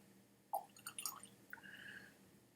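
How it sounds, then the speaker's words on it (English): Water trickles and drips faintly into a glass of 51.9% Bimber single malt whisky, matured in an ex-bourbon oak cask, in a short quiet splashy sequence with no speech. "I'm going to add some water."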